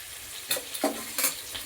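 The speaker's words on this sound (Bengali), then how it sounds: "আমি এবার মটরশুঁটিটা ভাজছি।" Boiled green peas sizzle in hot oil in a home kitchen pan, with a steady frying hiss broken by several soft scraping stirs and small pops.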